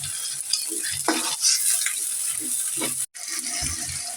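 A little water hits a pan of frying spices with garlic paste, cinnamon and cardamom, giving a soft sizzle under repeated scraping and stirring, with one brief pause.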